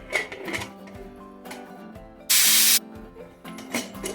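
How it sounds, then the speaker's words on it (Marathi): A pressure cooker cooking sweet potatoes releases one short, loud burst of hissing steam, about half a second long, in the middle of quieter kitchen sounds. "आता तीन शिटी येऊ देते"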